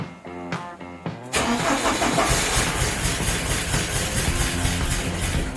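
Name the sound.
1987 Porsche 944 engine cranking and starting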